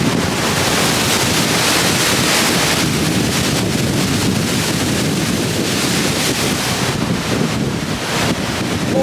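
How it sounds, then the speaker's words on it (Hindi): Water rushing at Kelavarapalli Dam on the Ponniar River near Hosur, a loud continuous roaring wash with heavy wind buffeting the microphone throughout. "और आप देख सकते हो ना पानी का बहाव एकदम पूरा।"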